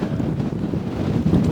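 Strong wind blows across the water while trout fishing, roaring steadily into the microphone in a close, continuous rumble with no pauses.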